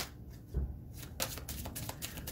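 A tarot card deck being shuffled by hand, a short burst of soft papery riffles and slaps, close and quiet with no talking.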